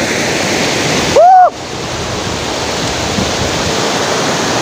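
Steady, loud rush of a flowing river fills the clip, broken briefly by a short electronic chirp near the start, in the páramo highlands near Quito, Ecuador.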